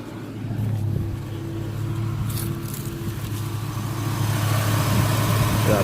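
A 2004 Chevrolet Suburban engine idles steadily with a low, even hum, with front and rear air conditioning blowers on max and electric fans expected to run, the drone holding level and swelling slightly near the end.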